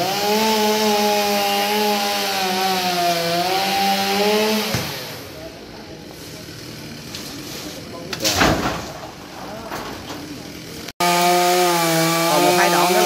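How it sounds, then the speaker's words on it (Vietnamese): Chainsaw cutting a tall, very thick coconut tree, its engine whining loud and steady, dropping to a lower idle mid-clip, then roaring back at full revs near the end. "Nguyên một ngày nay anh Tùng cưa 3 cây dừa với một cây sa kê với một cây móng ngựa."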